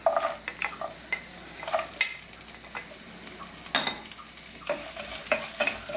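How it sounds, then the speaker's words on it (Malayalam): Chopped coconut fries in hot coconut oil with a steady sizzle, while a spoon scrapes and stirs through the pan in repeated close strokes. "ഇതിലേക്ക് ഒരു 1/2 കപ്പോളം അളവിൽ നാളികേര കൊത്തി ചേർത്ത് കൊടുക്കാം."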